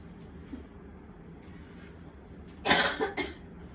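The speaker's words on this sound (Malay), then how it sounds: "Nah, Batuk dah." A person coughs a short burst of two or three harsh coughs near the end, close to the microphone, after a quiet stretch with faint background noise.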